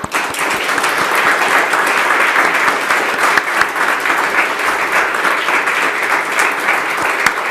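Sustained applause fills a parliamentary chamber as members clap to congratulate newly named ministers at the close of a ceremony, a dense, steady wash of many hands throughout.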